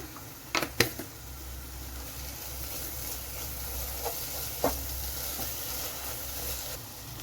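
Spices with garam masala sauté in a pan while a Kerala-style chicken pulao masala is cooked, giving a steady, soft sizzle with a few sharp clicks of stirring, close by and without talking.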